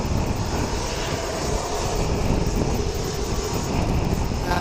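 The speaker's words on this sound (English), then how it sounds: "dash 8 about to go to Blenhiem down there. About to start firing up." A 15-year-old Dash 8 turboprop, registration ZK-NEU, starting up at Wellington Airport ahead of a flight to Blenheim, giving a steady, broad engine roar and whine that holds at a constant loud level throughout, with no talking.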